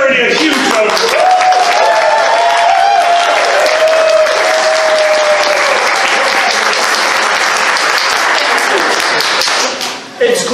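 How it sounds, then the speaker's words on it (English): A large convention crowd at a furry gathering's drinks panel bursts into loud, sustained applause for a charity, dense clapping with cheering voices and whoops riding over it, fading out near the end. "Guys, give our charity a huge round of applause."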